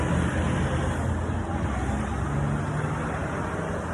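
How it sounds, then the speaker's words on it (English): Big loud trucks roll past on a road outside a house, a constant heavy rumble with a steady wash of traffic noise and no clear gaps. "These big loud trucks coming through."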